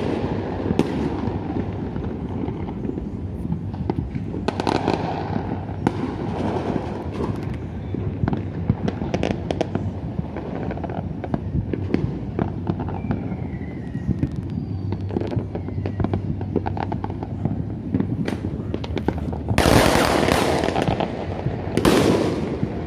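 New Year fireworks exploding over Pavuna in 2020, a continuous barrage of distant pops, crackles and booms with a few louder close bursts near the end.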